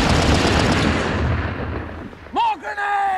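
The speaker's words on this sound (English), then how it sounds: "Those fools, they're right under those machine guns." Dense battlefield fire in a World War I trench setting, a continuous roar of rapid machine gun bursts mixed with artillery and explosions, loud and close, that fades into shouted voices near the end.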